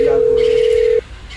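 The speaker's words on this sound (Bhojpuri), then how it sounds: "लगाओ तो फोन है।" A steady telephone dial tone hums for about a second, then cuts off abruptly, leaving faint room noise in a Bhojpuri comedy scene.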